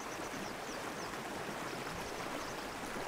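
A fast-flowing river in Shiretoko, Japan, in early summer rushes as a steady, dense broadband roar with no pauses, close and continuous throughout.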